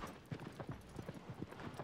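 Horse hooves clip-clop in the video game Shadow of the Colossus, a quick, even run of soft thuds that carries on steadily at a moderate distance with no voices.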